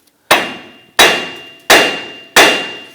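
Four loud, evenly spaced metallic hammer blows on a steel punch drive out a stuck pinch bolt on a 2006-2010 Hummer H3 front suspension knuckle; each strike rings briefly before the next.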